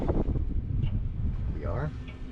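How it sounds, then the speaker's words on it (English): Strong outdoor wind buffets the microphone during auto-body welding work on a ZR2 Blazer, a steady low rumble and roar that runs the whole time under indistinct voices. "it's so windy out here today"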